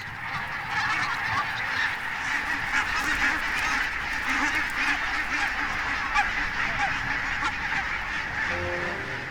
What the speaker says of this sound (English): The barnacle geese are back.